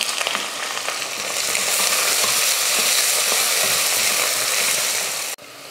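Sliced onions and green chillies frying in hot oil with whole spices, a loud, steady, close hiss of sizzling that swells slightly as it is stirred, then drops off abruptly near the end.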